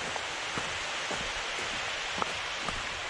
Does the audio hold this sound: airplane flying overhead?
no